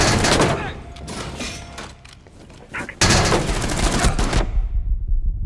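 Gunfire in Rainbow Six Siege: loud rapid automatic bursts, a brief lull, then a sharp renewed burst of sustained firing that fades out at the end.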